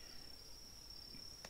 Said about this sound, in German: Oh, ich höre Grillen zirpen oder so.